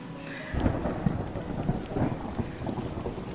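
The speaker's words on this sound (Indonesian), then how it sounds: "masuk yuk, hujan." Steady heavy rain pours throughout while low thunder rumbles and rolls underneath at night, loud and continuous with no voices.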